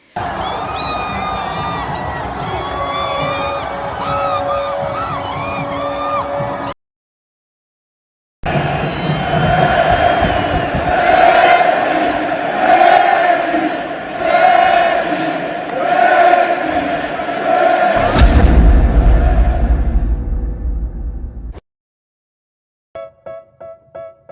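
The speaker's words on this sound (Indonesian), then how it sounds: "stadion meledak dalam sorak-sorai" A football stadium crowd roars in loud, dense cheering that surges in waves. A clear voice rises above the noise at first, a short silence breaks the roar, and a few faint bursts follow at the end.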